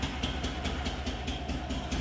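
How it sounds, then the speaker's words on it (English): A BMW Isetta's small engine idles steadily just after starting, a low continuous putter with a faint regular pulse, its exhaust slightly leaking and popping, heard close up. "We're gonna let it idle here a little bit."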